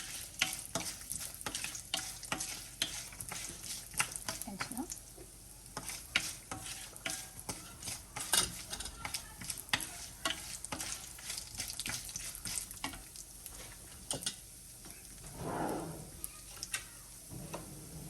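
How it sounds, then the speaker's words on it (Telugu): Cashews and garlic fry in oil for gongura pulihora, a continuous crackling sizzle with rapid ticking spatters and occasional stirring scrapes, close and quiet, lasting throughout. "జీడిపప్పు ఇవి వేగాక కొంచెం వెల్లుల్లి కూడా వేయించుకుందామండి"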